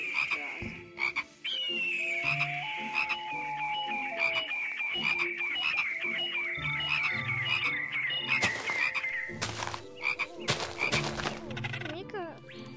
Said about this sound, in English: They make a frog noise.